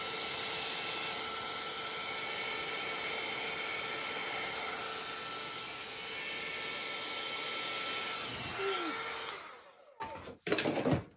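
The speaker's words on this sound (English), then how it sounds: "I'm going to use my small hairdryer blower with my funnel" A small hair dryer on the cool setting, fitted with a funnel, hums with a steady, airy whir for several seconds while blowing acrylic paint, then cuts off into a few clunks and rustles.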